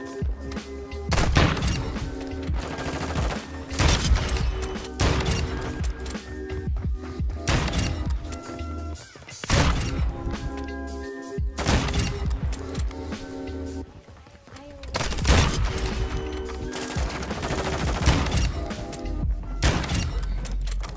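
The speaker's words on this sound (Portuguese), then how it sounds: "Vamos testar esse sniper aqui." Sniper rifle gunfire in Call of Duty Modern Warfare II, several loud, sharp shots spaced a few seconds apart, each with a booming tail, over steady game sound and music.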